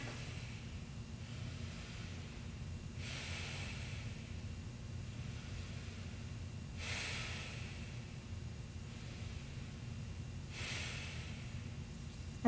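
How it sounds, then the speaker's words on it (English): Slow, deep breaths during a child's pose rest in yoga practice, about four soft airy inhale-exhale swells spaced a few seconds apart over a steady low hum, close and quiet, with no talking. "Take a few deep inhales and exhales here."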